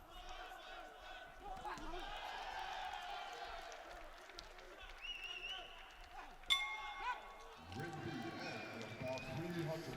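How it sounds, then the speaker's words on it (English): A boxing bell marks the end of a round at the AIBA World Boxing Championships bout between Saken Bibossinov and Deepak Bhoria: one bright ringing strike partway through, over steady arena crowd noise and ringside commentary. "there goes the bell at the end"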